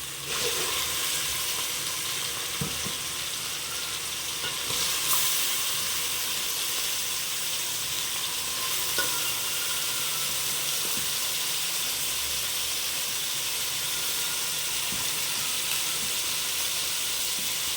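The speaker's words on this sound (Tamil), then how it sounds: "இப்போ சிக்கன் நல்லா வதங்கிடுச்சு" Chicken sautéing with onions in a pan for a chicken curry, producing a loud, constant sizzling hiss with occasional stirring scrapes over the whole stretch.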